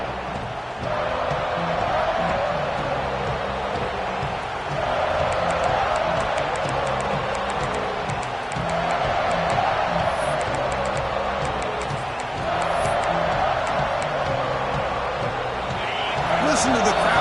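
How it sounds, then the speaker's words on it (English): A stadium crowd roars at an Auburn college football game, a broad sustained swell of cheering that rises and falls in waves, with a commentator talking over it. "Listen to the crowd energy here in the early going."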